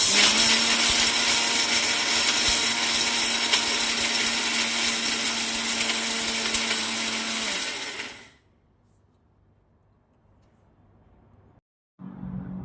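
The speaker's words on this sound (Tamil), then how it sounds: "இப்போ நம்ம மிக்சியில் போட்டு நல்லா அரைச்சி எடுத்துக்கலாம்" A kitchen mixer grinder whirs loudly and steadily, pulverizing roasted sambar powder spices for about eight seconds, then stops abruptly into near silence before a brief final burst.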